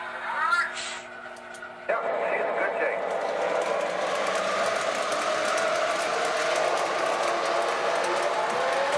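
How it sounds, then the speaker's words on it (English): An older red MTH Proto-3 model train locomotive starting up on a layout loop: quiet electronic chirps and tones give way to a sudden onset of steady motor whir and rolling hum that continues evenly. "I just manually started up that red Loco."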